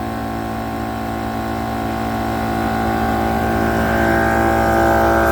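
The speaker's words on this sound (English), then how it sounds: "Hit power. And the generator is going to do its thing." A generator runs to power a Lasfit four-tire inflator and deflator system, giving a loud, steady mechanical drone with a strong tonal hum that rises slightly in pitch and loudness as the load comes on.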